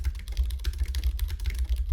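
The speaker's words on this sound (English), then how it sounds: "I'm typing this all out" Fast, steady typing on a computer keyboard, with many close, light clicks in an irregular run against a low rumbling hum and no speech.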